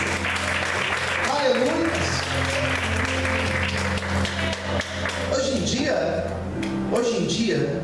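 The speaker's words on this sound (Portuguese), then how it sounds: "Você pode aplaudir a Deus por isso." Church congregation applauding during a Portuguese-language sermon, a sustained mass of clapping at moderate distance that runs through the clip, with a voice speaking over it.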